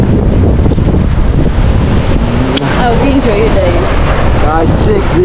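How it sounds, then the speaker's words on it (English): Strong wind buffets the microphone in a loud, constant roar at a seaside viewpoint by the ocean near Cape Town, with faint surf beneath it and brief bits of a person's voice. "That wind."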